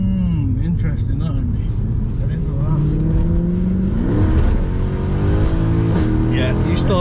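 A Mercedes C63 engine drones loudly inside the cabin, its pitch climbing and dropping through gear changes under hard acceleration, with voices talking over it throughout.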